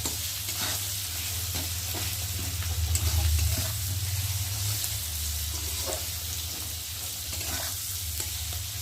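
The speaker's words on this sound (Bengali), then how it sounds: "দেখো মশলাটা ভালোভাবে তেলের মধ্যে কষিয়ে নিয়েছি" Spices frying in oil in a pan for a dalia khichdi, giving a steady close hiss and sizzle with faint scraping stirs throughout and no talking.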